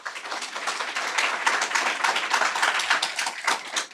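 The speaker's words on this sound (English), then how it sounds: "Guys, if you could, please don't clap." Audience at a public boundary adjustment workshop meeting clapping steadily, a dense patter of many hands close by that holds for several seconds with no talk over it.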